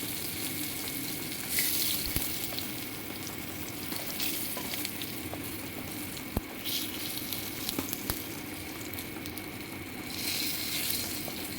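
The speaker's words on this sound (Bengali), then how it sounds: "এগুলোকে একটু ভালো করে ভেজে নিই তো দেখো রসুনগুলো লাল লাল করে ভাজা হয়েছে" Chopped garlic frying in hot oil in a home kitchen, a steady dense sizzle running throughout with occasional stirring clicks of a spoon against the pan.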